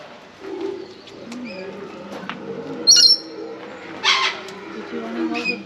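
A bird held on a person's arm coos softly in low, rounded calls at Peaceful Bay, Western Australia, with a few sharper chirps, while people talk nearby.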